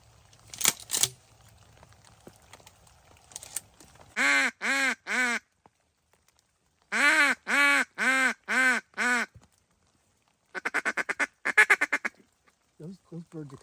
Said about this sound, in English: I think there's a big pile of coots out there.